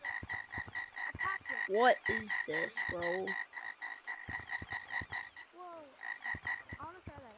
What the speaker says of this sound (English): What about this frog?